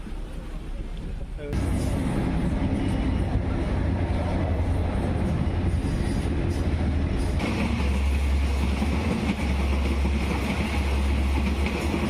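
A commuter train in Thailand pulls out of a station bound for Don Mueang, giving a steady low rumble that swells partway through and carries on under a voice.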